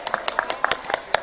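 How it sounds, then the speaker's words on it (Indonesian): An audience applauding Islamic students at a religious gathering: a short run of light, scattered hand claps at a quick, uneven pace, fairly close and moderate in volume. "Tepuk tangan dulu buat santrinya."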